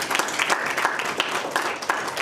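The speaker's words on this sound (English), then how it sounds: "Round of applause." An audience breaks into applause after a question at an interview event, steady dense clapping filling the whole stretch at moderate level with no talk over it.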